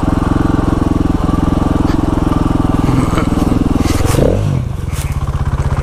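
A dual sport motorcycle engine chugs steadily at low revs while the bike slides down a steep dirt hill on a West Virginia road, with a brief scraping skid near the end before the engine note settles again.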